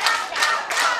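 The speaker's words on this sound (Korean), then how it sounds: "그 서 계신 분들 박수 한 번," An audience at a pumba troupe performance during a cherry blossom festival in Songhae Park gives three quick bursts of group clapping, close and fairly loud.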